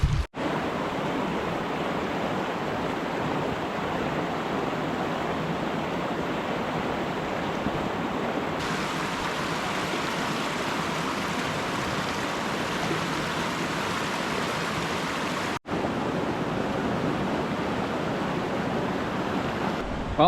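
River water rushes steadily through New Hampshire backcountry beside a hiking trail, a dense, continuous wash that runs unbroken and fairly loud, with a slight shift in tone partway through and one momentary dropout near the end.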